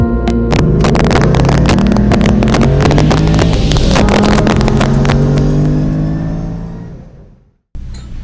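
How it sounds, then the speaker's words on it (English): Straight-piped 2016 supercharged Ford Mustang exhaust roars loud and close, a raspy crackling drone that holds steady and then fades out before a brief restart of noise at the end. "today we are straight piping my 2016 Ford Mustang"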